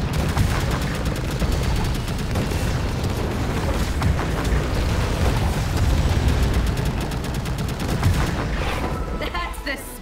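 Gunfire in the video game Catalyst Black: a dense, continuous barrage of shots and booms at loud, steady level for the whole stretch, with game effects layered in and thinning slightly near the end.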